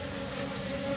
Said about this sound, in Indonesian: Nih satu lebah madu yang baru kita tangkap, yang baru kita pindahkan koloni lebah madunya nih